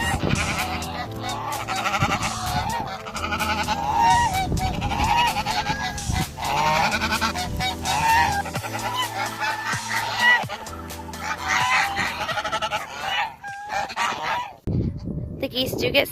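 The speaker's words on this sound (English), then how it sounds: "A brown Chinese goose and two white Chinese geese." Several Chinese geese, one brown and two white, honk loudly and repeatedly nearby, overlapping in a noisy, continuous chorus of harsh calls.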